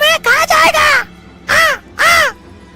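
A crow caws in a Hindi animated children's story, three loud harsh calls close up, the first drawn out and broken, the other two shorter and separated by pauses.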